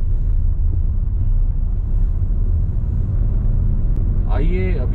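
Steady low road rumble of passing vehicles on a Delhi street under curfew, continuous and moderately loud, with a brief vehicle horn or tonal whine near the end.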